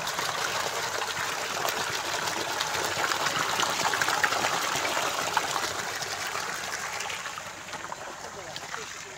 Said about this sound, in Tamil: ரெண்டரை தண்ணி வருது பாருங்க.